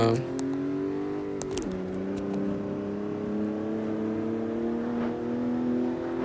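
BMW M4 engine in the racing game CarX Street, a steady, loud synthetic engine drone that revs and climbs in pitch, dipping briefly at a gear change before rising again; a voice talks over it.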